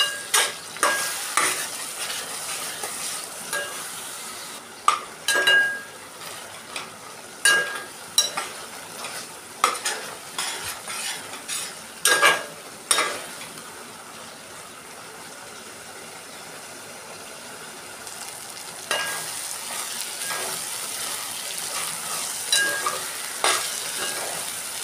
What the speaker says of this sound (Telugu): ఇప్పుడు కలుపుకోవాలి.